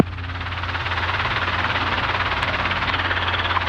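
Helicopter air taxiing on a taxiway during a solo training flight over Austin, heard from inside as a steady loud rotor and engine roar with a low pulsing throb, no talk.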